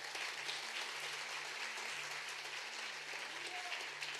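A church congregation claps for the Lord during a sermon, a faint, even, distant patter of applause sustained throughout with a low hum beneath.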